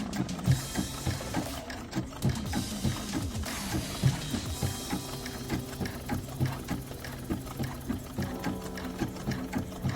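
A sewing machine stitches an appliqué quilt block, its needle running in a steady, close, continuous mechanical rhythm with no one talking.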